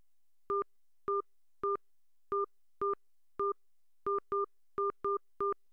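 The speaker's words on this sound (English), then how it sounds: "enter the area code and phone number you wish to call, followed by the pound key" A telephone keypad sends eleven crisp DTMF tones while a phone number is entered for a collect call, each short beep clean and alone against silence, with uneven gaps between them.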